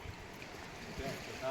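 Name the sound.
water of the Tapi river flowing at Ukai Dam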